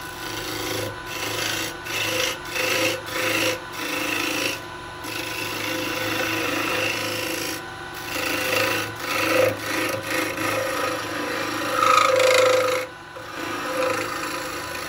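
A 1/2 inch spindle gouge cuts a maple bowl on a wood lathe, making continuous scraping and rasping with rhythmic swells as the tool passes the wood, close and moderately loud.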